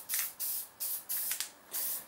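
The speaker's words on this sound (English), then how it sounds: "I wait 5 to 10 minutes, spray another coat, nice and thin" Aerosol spray paint applied in thin coats to a Yard Machine 243cc 28-inch snowblower, heard as five short hissing bursts with brief gaps, close and moderately loud.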